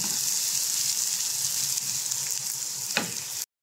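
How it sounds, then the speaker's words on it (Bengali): Onions frying in oil in a pan, a close, steady sizzle with a single scrape of stirring near the end before it cuts off. "পেঁয়াজটা আমি ভালো করে নেড়ে চেড়ে নিয়ে হালকা একটু লাল করে নেব।"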